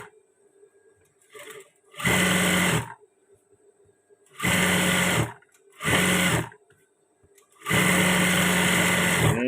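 A sewing machine stitches batik fabric in four loud, steady bursts of rapid whirring, separated by short pauses of quiet.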